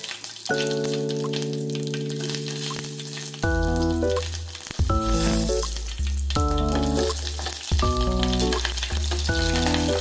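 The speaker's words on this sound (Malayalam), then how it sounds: "എന്നിട്ട് എണ്ണ ചൂടാകുമ്പോൾ നമ്മളതിൽ കടുക് ഇടുന്നു." Mustard seeds, urad dal and pepper hit hot oil in a pan, giving a steady loud sizzle with bursts of crackling and popping over ten seconds, close to the microphone with no voices.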